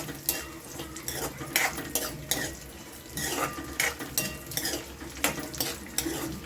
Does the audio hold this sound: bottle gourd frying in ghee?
yes